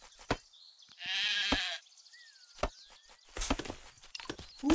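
Sheep bleat in the dwarf colony game Craft The World, with one long wavering bleat among sharp footstep-like thumps and clicks, followed by a busier patch of game sounds.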